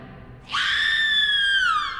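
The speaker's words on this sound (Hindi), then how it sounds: "इतना कहकर कीर्ति जोर से चीखने लगती है।" A woman in a Hindi horror audio drama lets out a loud, sustained high-pitched scream that starts abruptly and holds steady for over a second before wavering at the end, close and alone.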